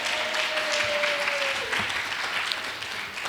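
Sustained applause from an audience at a city council mental health task force meeting, a steady dense wash of clapping filling the room with a faint tone running under it.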